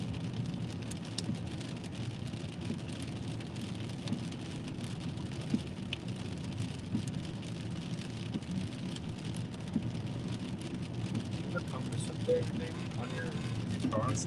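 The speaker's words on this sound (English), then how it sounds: "Hear the hail pounding his car." Big hail pounding a car roof during a tornado warning, a dense steady drumming roar throughout with occasional louder hits, while people talk under it.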